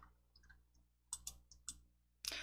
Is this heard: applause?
no